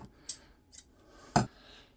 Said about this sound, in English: So I'm just going to cut my line off right there.